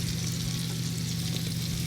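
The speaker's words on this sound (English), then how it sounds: "You can hear that sizzle." A mixture crackles and sizzles steadily as it is poured into a hot pan, a continuous hiss over a low hum, close and fairly quiet.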